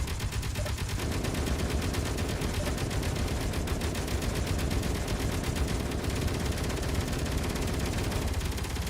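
Sustained gunfire in a video game, a steady dense stream of rapid shots that stays loud and unbroken throughout with no pauses or talk.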